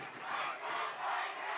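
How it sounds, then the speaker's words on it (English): Football crowd at a Pinecrest Academy Paladins versus Mount Paran Eagles game, a sustained roar of cheering and chanting swelling twice, "let's go Pinecrest" rising from the stands, steady and moderately distant. "As the crowd livens up, let's go Pinecrest chant."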